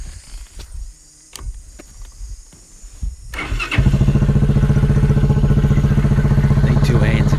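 Chinese quad bike engine barks into life, then runs at a loud, steady, close throttle with a fast pulsing beat and metallic clatter while being ridden, after a quieter stretch of scattered knocks and rattles.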